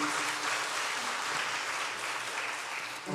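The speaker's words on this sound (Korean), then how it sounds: "은혜 주신 하나님께 영광의 박수 올리겠습니다." A church congregation at a Sunday worship service claps in sustained applause, a steady, even roar of many hands from a large room, heard alone.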